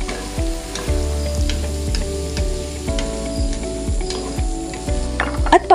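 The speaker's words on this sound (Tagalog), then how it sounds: "isunod na rin natin yung ating ginayat na pugita. Haluin nga lang natin to muna" Sliced octopus stirred in a hot pan for a Filipino coconut-milk dish gives a steady loud sizzle, with repeated scraping and clinking strokes of a utensil against the pan running throughout.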